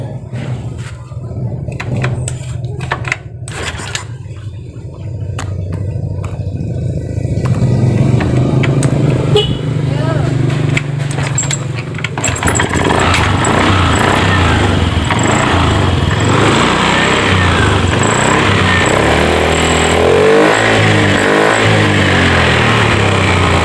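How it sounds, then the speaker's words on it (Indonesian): A Honda Beat scooter engine is kicked over with rattling mechanical strokes before catching and settling into a steady, loud idle, running continuously close by and slightly revving near the end. "Ini saya matikan, saya kontak lagi, akan saya engkol lagi ya."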